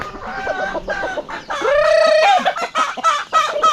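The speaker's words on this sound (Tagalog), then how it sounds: "Don't cry, chicken." Chicken clucking up close, a quick run of short clucks building into a drawn-out squawking cry, then more clipped clucks, with no talk over it.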